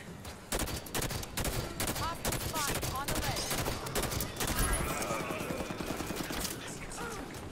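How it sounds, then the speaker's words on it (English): Assault rifle fire in Halo 5, with bursts of rapid, sharp shots crackling close by and mixed with game effects, while someone talks over the action. "this new assault rifle is pretty good"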